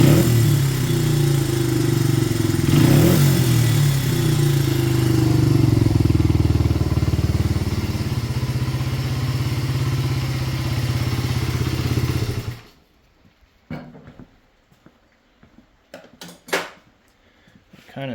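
A Honda XR80 dirt bike engine with a freshly rebuilt top end runs loud and steady for about twelve seconds, revs slightly, then cuts off, followed by scattered clanks and thuds nearby.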